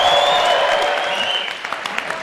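Comedy club crowd breaks into applause and cheers, loud at first and then thinning to scattered claps near the end.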